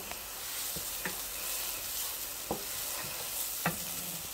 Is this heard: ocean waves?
no